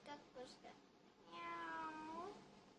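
A voice imitates a cat, giving a couple of short nasal mews followed by a longer, drawn-out wavering meow, close and clear.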